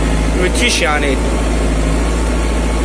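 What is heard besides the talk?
100 horsepower imported European tractor engine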